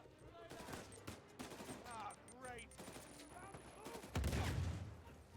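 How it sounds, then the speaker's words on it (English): Bursts of gunfire aimed at the player in Uncharted 4, with scattered shots and rapid volleys, and a heavier, louder stretch near the end. Game voices and sound effects are mixed in. "Who is shooting me?"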